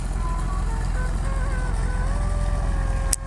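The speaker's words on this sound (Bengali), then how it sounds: "এদিক দিয়ে একটা টলার যাইতেছে" A motor trawler boat passes close by with a loud, steady, low chugging engine drone that continues throughout.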